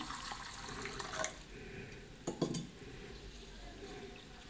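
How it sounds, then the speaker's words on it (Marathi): Halim (garden cress) seeds rinsed in a bowl of water, with soft sloshing and trickling water and a couple of brief splashes and clinks partway through, close and fairly quiet. "पाणी घालून 2 वेळा धुवून घ्यायचं."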